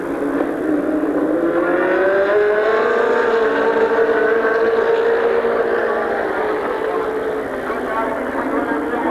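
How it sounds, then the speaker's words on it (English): Race cars circle Midvale Speedway in 1991, a loud, continuous engine drone whose pitch swells and falls as the pack passes, with a commentator talking over it. "Skip Thornton, John Shaw, and Jeff Walker out there racing."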